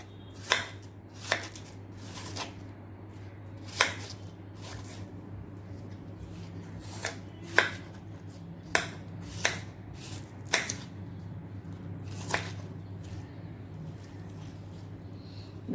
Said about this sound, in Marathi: आता याचे छोटे छोटे असे पीसेस करून घ्यायचे आहेत।